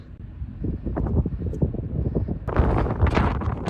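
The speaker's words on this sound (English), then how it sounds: "It's really ripping through. Can't wait to be in my tent away from this bloody wind." Strong wind roars across the microphone on an exposed fell top in the Lake District during a hike-and-fly race, a steady rumbling buffet that grows harsher and gustier partway through.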